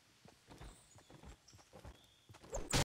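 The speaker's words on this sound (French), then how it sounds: "Tu entends pas les bruits de pas?" Footsteps in the video game Fortnite land in a quick, regular run of soft thumps at moderate distance, and a louder burst of noise follows at the end.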